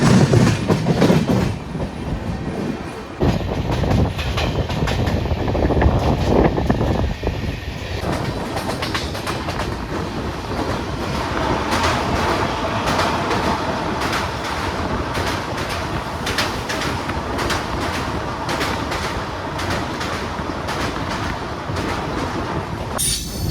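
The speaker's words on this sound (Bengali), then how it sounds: "গাড়ি এখন ছেড়ে বেড়াচ্ছে নিউ জলপাইগুড়ি স্টেশন" A train pulls out of New Jalpaiguri station in loud, continuous rumble with clickety-clack of wheels over rail joints, wind buffeting and occasional squeals throughout.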